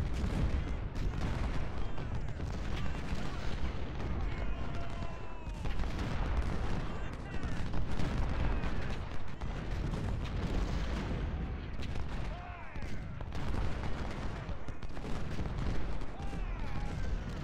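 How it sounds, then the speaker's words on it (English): Artillery fire in the Civil War strategy game Ultimate General: Civil War, a dense, continuous rumble of booms and crackling gunfire layered together, steady throughout with no clear pauses. "there goes enemy artillery."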